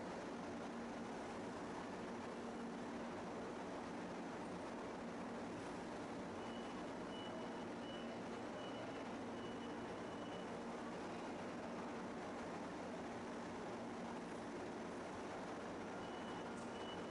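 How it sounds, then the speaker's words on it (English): Forklifts doing routine material handling give off repeated reversing beeps over a steady, loud wash of engine and machinery noise that runs throughout. "Let's take a look at a few examples of forklifts in operation"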